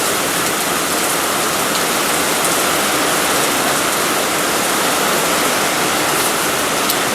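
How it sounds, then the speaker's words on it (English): Heavy rain pours down in a dense, constant hiss, loud and unbroken from start to finish. "it's raining so hard out there"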